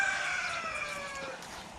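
Backyard roosters crow and chickens cluck together in a steady, fairly loud chorus, the calls overlapping with no talking.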